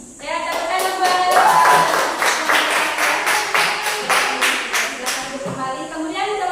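Classroom clapping for a student group that has just presented a school garden project, with quick rhythmic claps from a small group and some voices mixed in.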